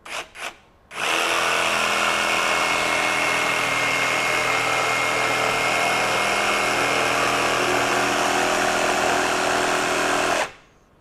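A RIDGID R86344 18V brushless jigsaw cuts at a 45-degree bevel, its loud, steady buzzing whine running unbroken for about nine seconds after a couple of brief starts, then stopping abruptly.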